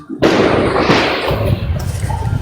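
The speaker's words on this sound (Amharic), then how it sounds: "ርችት እየተቆሰ ነው።" Fireworks go off with a sudden loud burst and crackling that fades over the next couple of seconds, heard close by at night.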